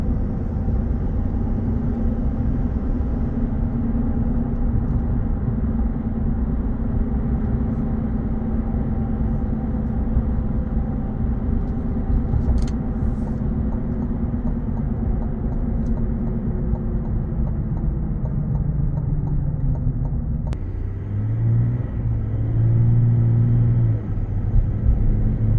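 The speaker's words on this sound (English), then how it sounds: "we're going on a quick test drive" A 2023 GMC Sierra 1500 AT4 pickup truck on a road drive gives a steady, loud engine and road rumble throughout, with a brief shift in tone near the end.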